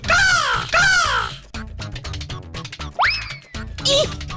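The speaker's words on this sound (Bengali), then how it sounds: "এত জায়গা থাকতে কাকটা সবাই এলো কেন আবার সবাই যখন এসেই পড়লো তখন এমন বিটকেল ডাকলো কেন" A crow in a Bengali cartoon of Sukumar Ray's Drighanchu gives two loud, harsh drawn-out caws close up. Busy cartoon sound effects follow, including a rising boing-like tone.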